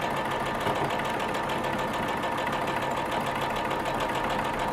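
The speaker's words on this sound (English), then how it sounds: "anchor stitch and just line it up so it stays nice and flat" Sewing machine stitching a log cabin quilt block, a steady, fast mechanical whirr with an even rapid rhythm running throughout at close range, with no voices.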